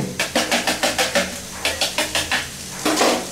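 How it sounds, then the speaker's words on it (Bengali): Beaten egg mixture with salt being whisked for Bombay toast, a utensil clattering against the bowl in quick regular strokes, about a dozen close, crisp beats with a short pause midway. "লবণ দিতে ভুলে গেছিলাম দিয়ে আরেকটা ঘুটা দিই"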